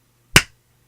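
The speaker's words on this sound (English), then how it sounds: "Should we be clap syncing or something?" A single sharp hand clap, loud and close, struck to sync a recording, then quiet with a low steady hum beneath.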